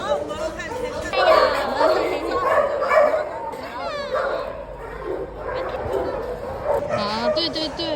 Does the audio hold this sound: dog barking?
yes